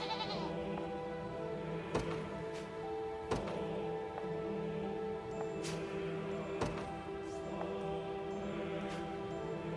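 Goat bleats in the Unicorn Overlord video game during milking, several short calls scattered at intervals over steady game music, fairly soft and without talk.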